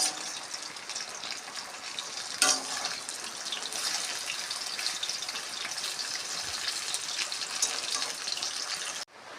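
Potato and onion pakoras fry in hot oil with a steady, even sizzling hiss throughout, and a single sharp clatter early on as a piece is turned.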